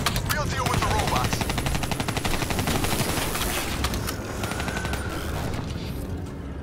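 Sustained automatic gunfire in a Black Ops 3 campaign battle, loud and dense, with overlapping rapid shots for several seconds that thin into scattered fainter fire.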